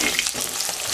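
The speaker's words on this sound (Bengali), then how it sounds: "মাছগুলোকে হালকা করে ভেজে নিলেই কিন্তু রেসিপিটি খেতে বেশি ভালো লাগবে।" Fish frying lightly in oil for an aam shol dish, a steady close crackling sizzle with bright spitting bursts throughout, no voices.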